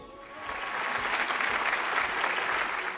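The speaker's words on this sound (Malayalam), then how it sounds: "ഏതായാലും സനൂപിന് നല്ലൊരു കയ്യടി" Studio audience applauds a contestant named Sanoop on a Malayalam TV game show, a steady wash of clapping that swells after a brief start and holds loud and even throughout.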